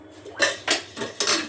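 A ladle of oil goes into a heated kadhai: four sharp metallic clanks and scrapes of the ladle against the pan come in quick succession, close and fairly loud, with no voices.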